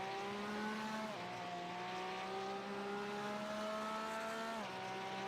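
A Porsche GT3 race car in a Daytona sim race holds a steady, high engine whine, with quick gear-change dips about a second in and near the end. Other engine noise sits quietly underneath.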